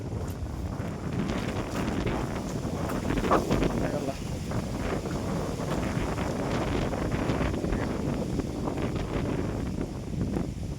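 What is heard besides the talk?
strong wind blowing on a hill road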